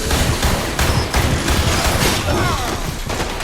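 Rapid bursts of gunfire hit monsters in the video game Resident Evil RE:Verse, loud and close, with sharp repeated reports in an uneven rhythm and occasional metallic clanks.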